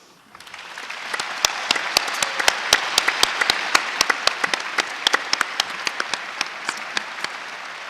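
An audience at a live climate-change event applauds the panelists, a steady dense wash of clapping that swells in and holds for several seconds, with individual sharp claps standing out near the front.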